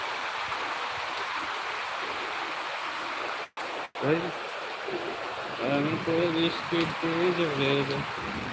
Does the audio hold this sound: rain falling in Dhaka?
yes